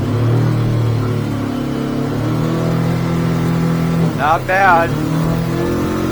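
Yamaha F150 outboard motor on a 2023 Hewes 210 Searunner boat, a steady loud engine drone with a brief rise in pitch near the end, while someone speaks briefly over it.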